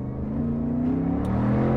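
A Mercedes SLR McLaren engine with its resonator deleted gives a loud, raw, steady drone of close-up engine harmonics that hold throughout, with no voices over it.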